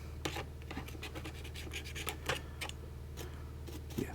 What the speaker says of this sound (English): Any stubborn sort of lint and whatnot, you might want to just carefully pick away at with a screwdriver.